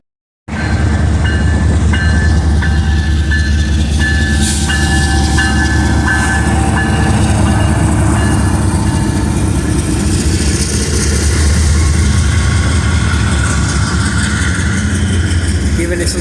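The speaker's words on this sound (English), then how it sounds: "Giving it some throttle. Hear how the RPMs increase?" A CSX freight locomotive's diesel engine throttles up, a loud, continuous, close rumble that starts abruptly and holds steady as the RPMs build.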